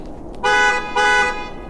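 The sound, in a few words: truck horn chirp when locking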